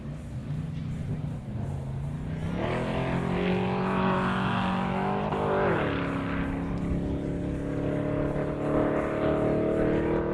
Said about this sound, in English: Drifting the back end out, going over the Savvy tabletop.